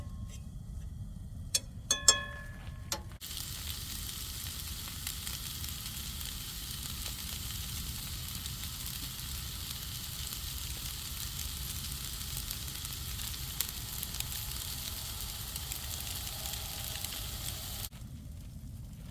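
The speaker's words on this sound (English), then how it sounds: "you only need to saute it for like just a couple of minutes" Food sizzles steadily in a pan on a camp stove at a Jeep Wrangler camping kitchen, a continuous close frying hiss lasting throughout with a few brief clinks near the start.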